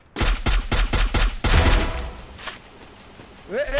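Gunfire in a shooting video game, a rapid close burst of loud shots in a steady rhythm that fades into a quieter tail before a voice starts speaking at the end.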